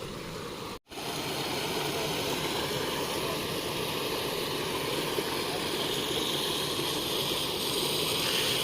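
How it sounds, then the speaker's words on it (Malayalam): Small waterfall stream on the Meeshapulimala trek, a steady, close rushing of water that fills the whole stretch after a brief cut near the start, with no voices. "ഇനി ഇങ്ങോട്ട് പോയാൽ ഇച്ചിരി വെള്ളച്ചാട്ടം കാണാം."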